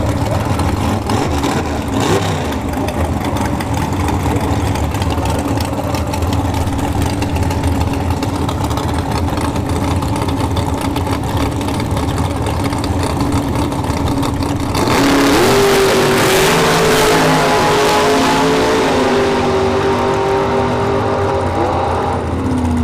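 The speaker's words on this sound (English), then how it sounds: "Got a Vega here in the left lane down at 571. Dragster in the right lane down in at 486." A Vega and a dragster at a sportsman drag-racing final, engines idling and burbling loudly for a long stretch before one revs hard and accelerates away with a rising, roaring pitch near the strip.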